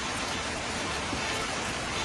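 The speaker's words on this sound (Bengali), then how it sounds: "এখনই বৃষ্টি শুরু হয়ে গেছে" Rain falling on the Kuakata road during a motorbike trip, a dense, even wash of broadband patter that holds steady throughout without any talking.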